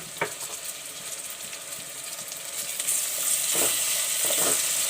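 Garlic stir-fried with softened onions in a pan for Delhi-style green chilli keema, a steady close sizzle that grows louder midway, with light stirring and no talk.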